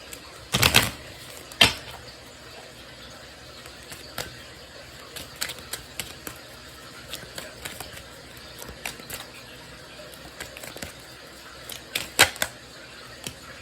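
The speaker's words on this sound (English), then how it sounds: "Let me just shuffle them" Soft papery riffling and scattered light taps of an oracle card deck being shuffled, with a couple of sharper snaps, close and quiet, no talking.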